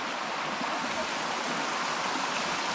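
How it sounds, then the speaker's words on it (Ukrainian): A river flows close by on a forest walk, a steady broadband rushing of water that fills the whole clip at an even, moderately loud level with no talk over it. "Зараз вже річка ліворуч від нас."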